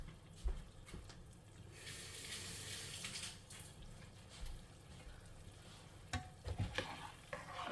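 Tamarind liquid bubbling and sizzling in a pot, a steady simmering hiss with occasional clinks and stirring noises, no talking.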